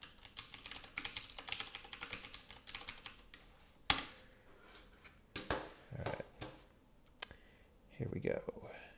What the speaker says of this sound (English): I'm typing in the wrong window